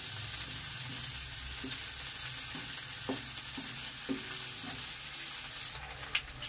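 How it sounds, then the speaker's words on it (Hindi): Onion layers fry in a pan for a chilli paneer dinner, a continuous soft sizzle with scattered faint clicks and pops from utensils, steady and close. "एक एक लेयर करके खोल देते हैं ओनियन की, तब इसमें फ्राई करते हैं।"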